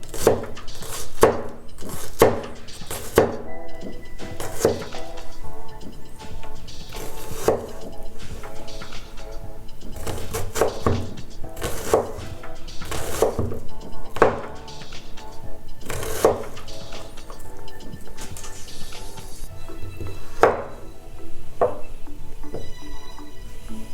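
A Böker Plus Hermod 2.0 knife slices a carrot into thin rings, giving a steady run of crisp, close cutting taps against a board over a constant background hum.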